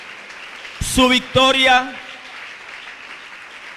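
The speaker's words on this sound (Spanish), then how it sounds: "déle ese aplauso fuerte al Señor" A church congregation keeps up steady applause beneath a preacher who speaks briefly over it, the clapping a soft continuous wash behind his voice.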